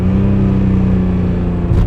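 A BMW E46 M3 with an SMG gearbox holds a steady, loud engine drone from inside the car while cornering, the revs shifting slightly with a brief rise near the end and no throttle blip.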